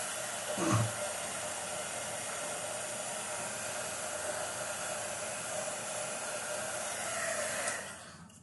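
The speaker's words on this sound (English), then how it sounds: "You're going to have to heat set this." An electric heat tool blows steadily while heat-setting archival black ink on a stamped card, a continuous, fairly close hissing whoosh of air that holds level for several seconds before switching off.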